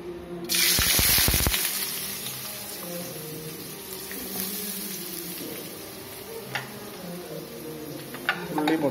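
Onions drop into hot oil and sizzle loudly at first, a bright hissing burst that settles into a steady, softer frying crackle with a few small pops and stirring clinks.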